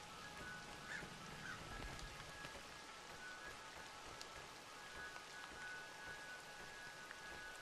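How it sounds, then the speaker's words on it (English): Steady rain patters continuously on surfaces in the survival horror video game Crow Country, a dense, even hiss with scattered drops and a faint tonal hum underneath, no voices. "It's raining."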